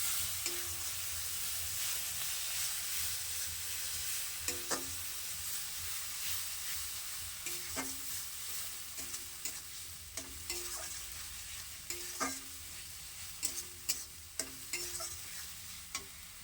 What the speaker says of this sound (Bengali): মা মশলাটাকে ভালো করে কষিয়ে নিচ্ছে যতক্ষণ না মশলা থেকে তেল ছাড়বে